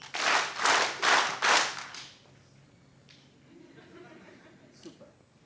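An auditorium audience claps in unison four times on a count, four loud evenly spaced synchronized claps followed by quiet murmuring and a few scattered sounds.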